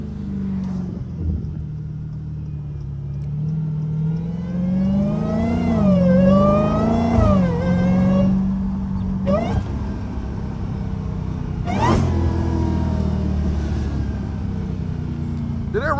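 A straight-piped Dodge Hellcat engine accelerates with a loud, raw exhaust roar that rises and falls through several surges, with sharp bursts between pulls, heard from inside the car.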